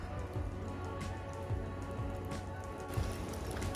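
Rain falling on the Appalachian Trail during a thru-hike, a steady close patter of raindrops with no talking.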